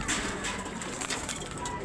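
A racing pigeon cooing close by in a loft, a short soft throaty coo over a low, noisy background.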